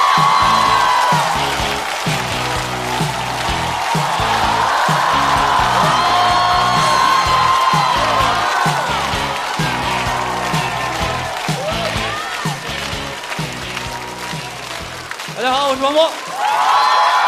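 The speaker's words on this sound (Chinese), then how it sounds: "掌声欢迎庞博。" Studio audience on the Chinese stand-up comedy show Rock & Roast season 4 applauds and cheers to welcome comedian Pang Bo, a loud sustained ovation blended with thumping entrance music and a voice speaking.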